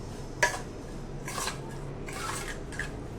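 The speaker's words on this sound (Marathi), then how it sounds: "हे सगळं हलवून घ्यायचं, सो एकदम छान हलवायचं" Grated ginger with lemon juice and salt being stirred in a small dish for a home acidity remedy, giving a few faint, spaced scraping clinks of a spoon against the container.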